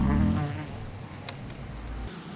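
Honeybees drone in a steady buzzing swarm at an open beehive being inspected, brood frames exposed; the hum is close and continuous, louder at first and settling to an even level, with a few brief higher tones.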